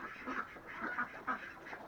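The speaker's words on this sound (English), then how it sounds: "Just fed the ducks." Ducks quack just after being fed, a handful of soft, fairly faint calls spaced irregularly over a quiet background, with no talking.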